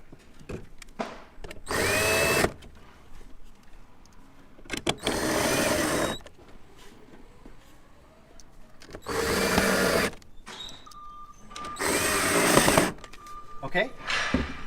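A power screwdriver drives screws to mount an upgraded HM Parts Gen 4 controller, four loud bursts of whirring, each roughly a second long, separated by quieter handling noise.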